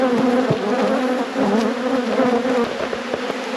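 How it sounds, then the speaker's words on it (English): Honeybees swarm loudly in an open, crowded hive during an inspection, a dense close buzz that swells and dips continuously with occasional faint knocks from handling. "I'm not too worried about this hive. These guys are booming."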